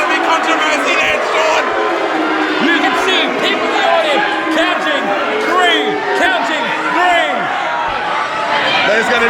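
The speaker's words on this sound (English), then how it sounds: "Can you hear the crowd coming unglued here?" A wrestling arena crowd roars and chatters in a dense, continuous wall of noise after a near three count, with shouts and whoops rising out of it and voices speaking over the din.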